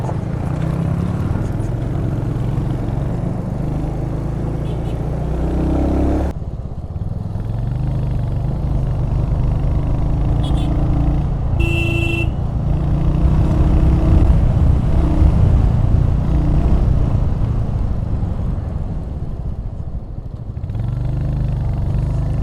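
Motorcycle engine running steadily and revving on an empty mountain road in Uttarakhand after a landslide closure, loud and close with rushing wind noise.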